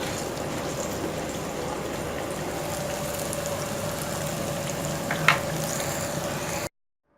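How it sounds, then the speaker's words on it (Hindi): Marinated chicken frying in oil for a restaurant-style sweet and sour chicken, a steady dense sizzle and crackle running evenly and close throughout, ending abruptly. "ये आपकी दोनों साइड से बहुत अच्छी सी क्रंची सी चिकन फ्राई हो जाएगी"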